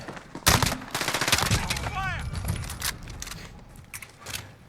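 MP5K submachine gun firing in Call of Duty Modern Warfare, fitted with a hipfire SMG build: loud, near bursts of rapid automatic fire with sharp cracks, running alongside clinks of mechanical handling.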